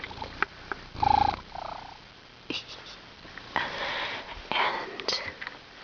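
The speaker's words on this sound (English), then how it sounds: "Purring, purring." A four-year-old house cat purring softly and close by, a low steady rumble that comes and goes, with a few sniffs and quiet breathy noises and some faint talk from a person nearby.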